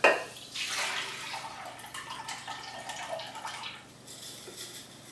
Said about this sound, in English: you're going to take it and you're going to pour out the water